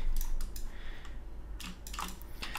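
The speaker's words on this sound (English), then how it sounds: "I'll just type hello again real quick" A few quick keystrokes on a computer keyboard, close and crisp, arriving in short bursts with small pauses between them.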